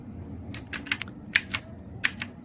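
Typing on an HP GK400F RGB mechanical keyboard, a quiet run of crisp clicky keystrokes in irregular clusters, close up and alone with no talking.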